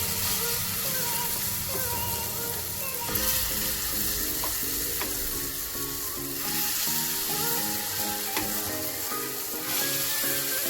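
A pakoda fries in hot oil in a small pan for kadhi pakoda, giving a steady, close crackling sizzle with occasional spoon clinks and stirring, and no voices.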